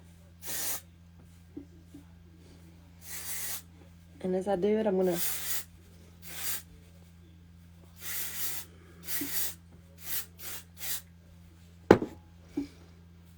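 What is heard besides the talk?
hair spray being sprayed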